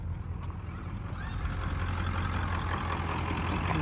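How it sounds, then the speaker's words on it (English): A ranch truck pulls away with its engine rumbling loud and close, the drone building slightly and then holding steady as it drives off. "This truck's leaving."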